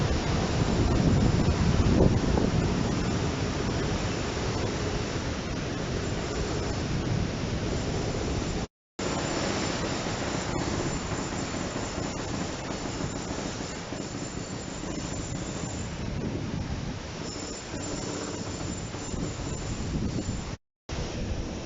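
Ocean waves at Surin Beach, Phuket, Thailand: a continuous broad wash of surf, loudest in the first few seconds, with wind buffeting the microphone throughout and two brief dropouts.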